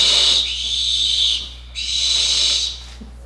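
Young barn owls call for food from their parents, two long, loud, hissing screeches with a brief gap between them, close by and alone over a steady low hum.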